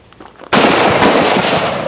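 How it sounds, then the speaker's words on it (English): A shotgun fired at paintings goes off with one sudden loud blast after a quiet moment, followed by a second report and a long noisy decay, close and with no talk. "Go ahead, shoot it. Put some holes in."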